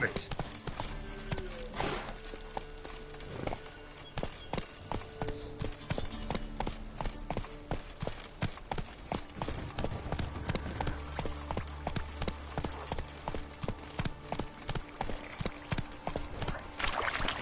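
Roach, a horse in Witcher 3, trots with steady, rhythmic clip-clopping hooves that carry on throughout, under voiced dialogue from the game.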